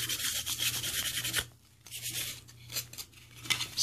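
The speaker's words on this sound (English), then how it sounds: "Scuff it down really good." Sandpaper scuffs back and forth over the surface of a homemade movie-style morpher prop, a close, steady rasping rub that stops briefly and then resumes in shorter strokes.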